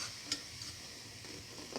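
Chickpea fritters with egg and fenugreek leaves frying in hot oil, a steady soft sizzle with light stirring clatter and a few brief knocks near the end.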